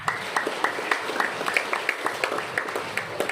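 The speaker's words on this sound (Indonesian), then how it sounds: "Tepuk tangan dulu." An audience at a parenting seminar for a kindergarten in Manokwari claps hands in a steady, fairly even rhythm of distinct slaps, moderately near and mostly on its own.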